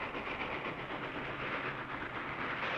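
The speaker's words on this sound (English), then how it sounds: "A 70-ton locomotive runs wild, and you learn fast to get out of the way" A runaway 70-ton locomotive gives a steady, loud rumbling roar with hiss and clatter, unbroken throughout.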